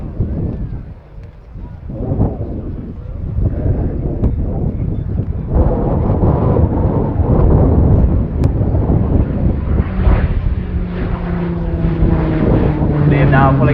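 An RAF Tucano turboprop trainer flies its display at RIAT 2019 and pulls up into a loop. Its propeller drone rises steadily and carries wind noise, while a commentator speaks over it throughout.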